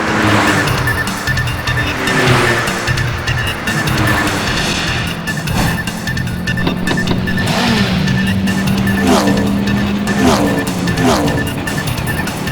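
Race cars roar and rev together as a race starts, a dense, loud engine din with a commentator talking over it.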